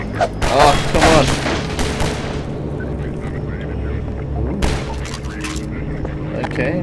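Gunfire in Half-Life 2 gameplay, with bursts of shots and heavy booming blasts that come and go over a dense rumbling game soundscape, loud and close, and a voice talking over it.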